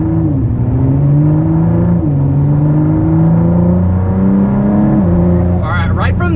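A Ford GT V6 with a new exhaust, its engine held in a loud, close, steady drone with small pitch dips and shifts, and a voice speaking briefly near the end.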